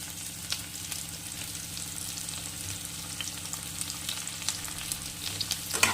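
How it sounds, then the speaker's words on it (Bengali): Softened onion frying in a pan, heard as a continuous low sizzle with light crackles and occasional soft stirring, steady and fairly quiet throughout. "পেঁয়াজটা কিন্তু নরম হয়ে গেছে ও ভাজা ভাজা হয়ে গেছে"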